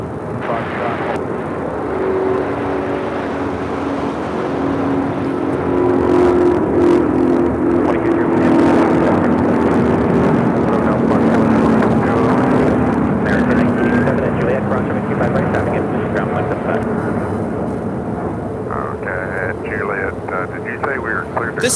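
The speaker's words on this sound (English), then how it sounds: "2202, taking off to Atlanta on an A350-900." A Delta Airlines A350-900 jet taking off from LAX, bound for Atlanta, gives a loud, sustained engine roar that swells and then slowly recedes into the distance.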